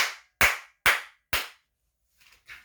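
Three sharp hand claps in a steady rhythm, close and fairly loud, followed by a couple of fainter softer claps after a short pause.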